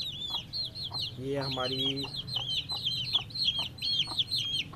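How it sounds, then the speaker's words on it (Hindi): An Aseel hen clucks in a low, rapid burst while her high peeping chicks chirp continuously around her; someone speaks briefly in the middle. "ये हमारी मुर्गी है"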